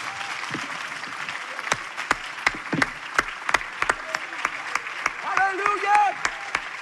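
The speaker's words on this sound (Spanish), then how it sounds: "Let's give the Lord a hand" A church congregation applauds the Lord during a bilingual sermon, with sharp separate claps in an uneven, fairly regular beat, heard close and loud, while voices cry out and talk between and over them.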